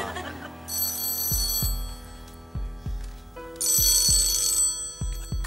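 A telephone on the Deal or No Deal game show rings in two bright, loud bursts of bell trilling, with rhythmic low thumps pulsing through underneath.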